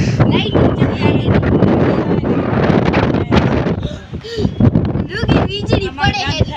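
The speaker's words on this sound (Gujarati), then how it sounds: "હા, વાવાઝોડા જેવી હવા આવે છે." Strong, storm-like wind blows steadily during a rainstorm with lightning, a dense continuous roar and buffeting close to the microphone, with people talking over it throughout.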